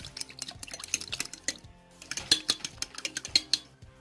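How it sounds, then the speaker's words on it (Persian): Egg, water and salt whisked together in a bowl, a rapid run of close, bright clinks and taps of utensil on bowl with wet sloshing, briefly pausing midway before resuming; no talking. "در اول من یک دانه تخم، آب، نمک را خوب آمیخته میکنیم"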